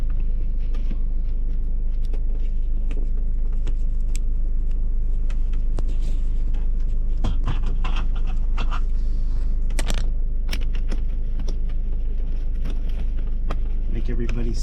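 A car on a long drive, a loud constant low engine and road rumble with steady tyre noise and occasional rattles and thumps from inside the cabin.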